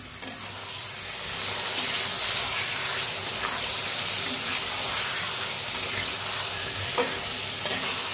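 Lote fish, also called Bombay duck, fries in a pan with a steady, loud sizzle and hiss throughout, with a few faint clinks of utensils and no talking.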